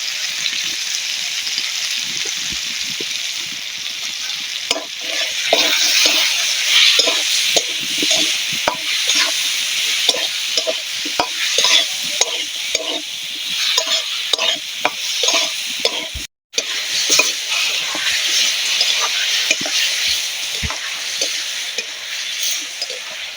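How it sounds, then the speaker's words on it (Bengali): Prawns sizzle and fry in a pan with salt, turmeric and chili powder, stirred steadily with a spoon scraping, loud and continuous with a brief break. "সুন্দর করে চিংড়ি কষানোটা হয়ে গেছে"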